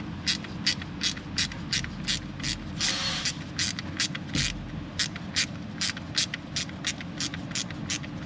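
A hand ratchet tightens a bolt on a car, giving a rapid, evenly spaced run of sharp clicks close by, with a brief hiss partway through and no speech.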